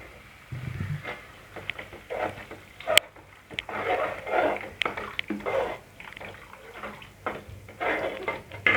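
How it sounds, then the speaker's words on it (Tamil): Water poured into a pan of simmering tomato-based egg gravy during cooking, heard as splashing, gurgling bursts of liquid, close and moderately loud, with a few clinks. "இப்போ நம்ம குழம்புக்கு தேவையான அளவு தண்ணி சேர்த்துப்போம்."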